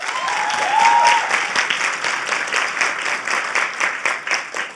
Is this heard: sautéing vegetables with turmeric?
no